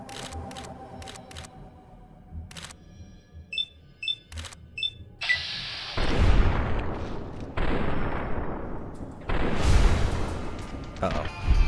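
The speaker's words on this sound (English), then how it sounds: "That's a fucking rocket launcher!" Rocket launcher fire in the video game Fallout New Vegas, a few sharp clicks and beeps followed by several loud booming blasts with long rumbling decays, each swelling then fading.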